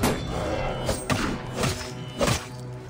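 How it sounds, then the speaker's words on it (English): Heavy charged melee strikes land in Assassin's Creed Origins, several dull thuds and thwacks spaced across the moment, close and punchy over a low game-sound bed. "Chop you down with a heavy charge attack."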